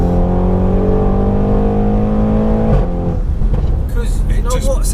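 An 800 BHP methanol-injected Audi RS6 accelerates hard, its loud engine note climbing steadily in pitch before a sudden shift to a rougher, gravelly roar; a voice is faintly present.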